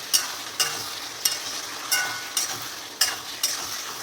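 Spicy goat liver fried with potatoes and green chillies is stirred in a pan: about seven sharp spatula scrapes at a steady rhythm over a soft background sizzle, up close.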